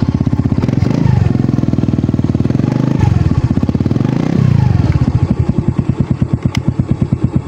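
A Suzuki Smash motorcycle engine runs on battery power, a loud close steady putter that rises briefly in a few revs and then settles into a rhythmic idle.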